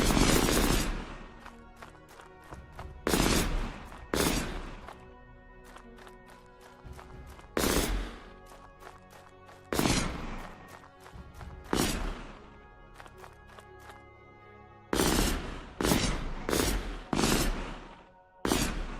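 Gunfire from bullets in a video game under development comes as repeated loud bursts of clustered shots, separated by quieter stretches of lingering game noise, with no talking.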